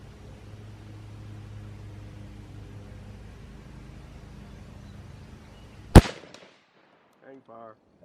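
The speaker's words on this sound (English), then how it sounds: "Let's shoot some muskets." A Civil War era rifled musket goes off once, a sharp loud crack followed by a brief decaying tail, after several seconds of low background hum at an outdoor range; short voice fragments follow the shot.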